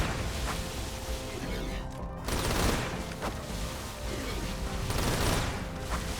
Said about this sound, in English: You click once, and it fires the entire mag.